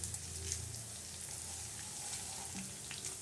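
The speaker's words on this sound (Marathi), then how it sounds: "आता असे चांगले खुरप खरपूस भाजून घ्यायचे" Whole spices and coriander seeds dry-roasting in a pan for a village-style black masala for mutton, a faint continuous crackling sizzle with occasional light stirring scrapes, no voices.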